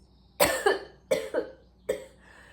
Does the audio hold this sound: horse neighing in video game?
no